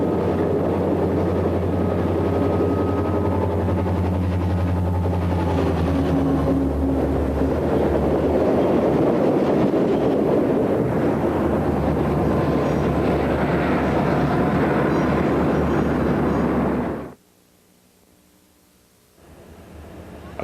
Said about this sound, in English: Radio-controlled SD50 provides mid-train power.